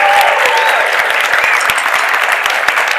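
Loud, sustained applause from an interview audience, dense clapping close by with a few whoops rising over it.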